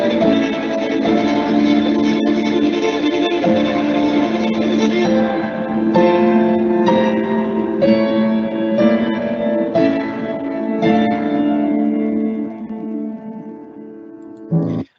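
A piece for violin with busy, dense note passages, sustained harmonic tones ringing steadily throughout and fading near the end, with no talking.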